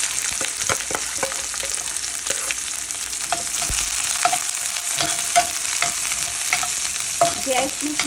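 Garlic frying in a pan with onion to follow, a continuous close crackling sizzle with frequent sharp pops and stirring scrapes throughout, no talking.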